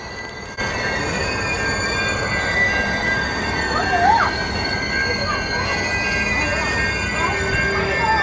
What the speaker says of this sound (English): Here we are, slowly making our way through the Wasilla station in Alaska.